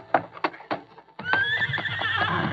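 A spavined old horse whinnies and its hooves clip-clop to a halt outside a frontier lawman's office in an old-time Western radio drama; the loud neigh is followed by a steady clopping bed, with no talk.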